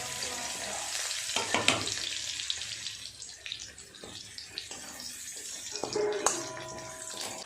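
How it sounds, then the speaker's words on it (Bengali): Crushed garlic tempering sizzling in hot oil in a home kitchen, a steady close crackle with stirring clatters and a couple of sharper scrapes, no talking. "ফোড়নটা ভালো করে ভেজে নিয়েছি"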